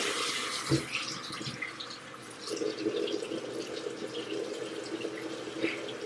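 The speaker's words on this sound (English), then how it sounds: "Let's just wash our face." Tap water runs steadily into a sink while someone washes their face nearby, with a few soft splashes and bumps over the flow.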